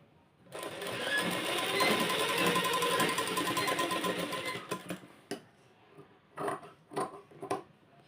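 A sewing machine stitching fabric runs in a steady, fast mechanical whir for about four seconds. Short stop-start bursts of stitching follow.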